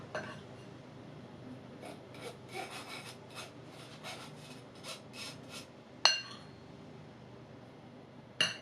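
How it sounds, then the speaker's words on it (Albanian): Flour being shaken through a sieve for matcha and M&M caramel biscuits, a soft repeated rasping and rubbing with light taps of the sieve, faint and close, with a couple of sharper knocks near the end. "Do kaloj mielli në sit"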